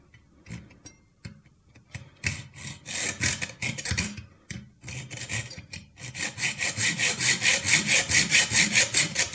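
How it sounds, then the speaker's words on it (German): A hand saw cuts through copper pipe with rhythmic back-and-forth strokes. The strokes are hesitant and uneven at first, then settle into a steady, brisk rasping that grows louder and more regular, heard close up. "einfach nur in einem schönen Rhythmus immer vor- und zurück sägen"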